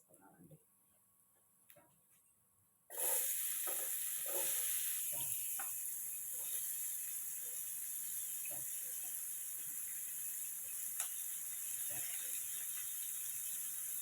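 Onions hitting hot oil in a pan while cooking, a sudden loud hiss that erupts after a few seconds of quiet clinks and stays as a steady sizzle, with light utensil taps.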